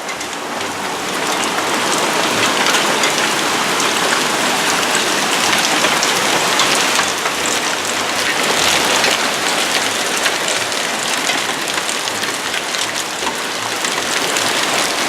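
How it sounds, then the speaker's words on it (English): A dense, steady downpour of hail and rain hammers a house and its roof. The roar is loud and continuous with crackling impacts throughout and no speech. "See the hail."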